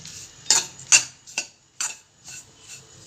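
A spatula stirs and roasts modak filling with almonds, cashews, pistachios and raisins in a pan, giving a few close, sharp scraping strokes spaced about half a second apart, with quiet pauses between them.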